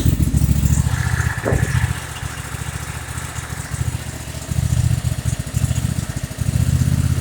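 A SCAT machine engine with about 270 hours on it runs steadily, its loud chugging idle rising and dipping as the throttle is worked, with no talking over it.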